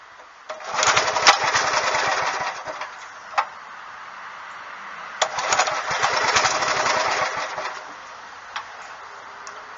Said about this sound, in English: I'm going to start this up now, or show you how this will not start up.